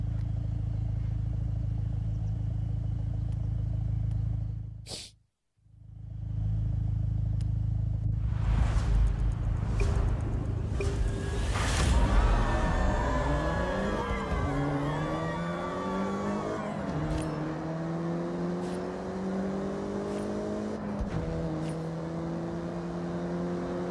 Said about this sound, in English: Those cars took off faster from me than the higher difficulty.